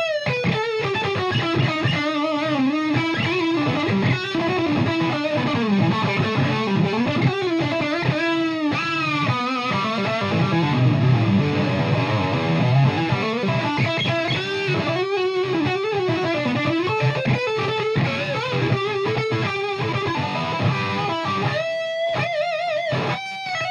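Electric guitar played through a Peavey 6505 Plus 112 combo amp with reverb, distorted melodic lead lines and sustained notes ringing loudly and continuously, with no talking.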